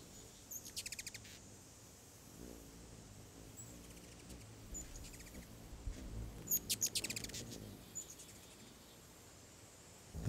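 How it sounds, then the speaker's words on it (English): Rapid, squeaky chirps of a ruby-throated hummingbird come in short bursts near the start and again in a louder cluster midway, over a low rumbling background. "The vocalizations of the ruby-throated hummingbirds are rapid, squeaky chirps"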